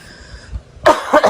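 A single person's throaty cough bursts out near the end, loud and close, after a quiet stretch of faint background noise.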